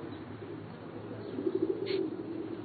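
Pigeons or doves coo softly in a short burst over a steady ambient background, with no speech.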